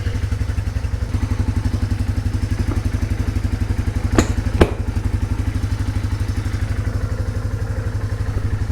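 A 1991 Yamaha Moto 4 250cc utility ATV engine idles steadily and loud up close, with a fast regular low putter throughout and two sharp clanks near the middle.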